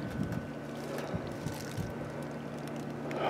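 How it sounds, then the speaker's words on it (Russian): A motorboat passes on open water during pink salmon fishing, a faint, distant engine drone mixed with wind noise and water sounds, with no talking. "А лодка летит какая-то."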